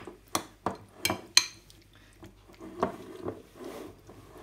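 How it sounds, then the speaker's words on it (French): A spoon clinks and scrapes in a small bowl as cranberries are stirred into vanilla rice pudding, several sharp metallic taps followed by softer, sticky stirring. "dans un petit saladier, on met notre riz au lait à la vanille dans lequel je vais mélanger quelques cranberries"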